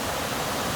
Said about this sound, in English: The wave really wedges right off of the jetty, and you get some solid rights here